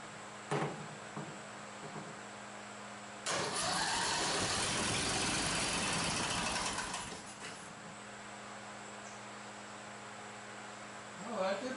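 A small go-kart-style cart engine with no choke cranks over after a shot of starting fluid, with a sudden loud, ragged burst of engine noise lasting a few seconds before it dies back to a low hum.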